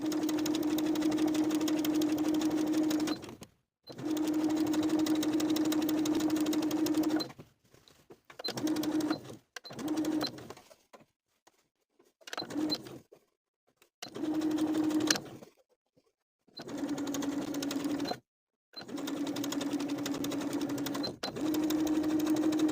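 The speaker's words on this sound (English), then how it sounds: "we're going to sew within that outermost crease of the bias tape, from one bottom edge of the strap to the opposite bottom edge" A sewing machine stitches bias tape onto an apron strap in repeated bursts of steady, rapid needle hum separated by short pauses and quiet handling, close and loud with no talk.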